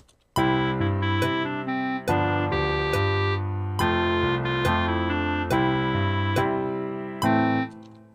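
A piano plays a steady left-hand 1-5-1 broken-chord pattern over two bars, with a low bass note anchoring each chord and clear, even attacks and no voices.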